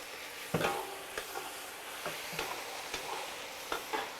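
Pork liver stir-fried with celery, pickled chilies and chili bean paste in a wok, a quiet sizzle broken by repeated sharp spatula scrapes and clanks at an irregular rhythm, no talking.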